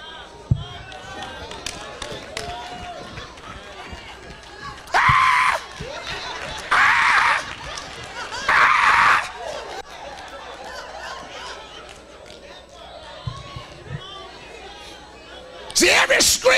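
A church congregation bursts into loud screaming and shouting in three bursts of a couple of seconds each and once more at the end, with a preacher's voice and crowd murmur in between.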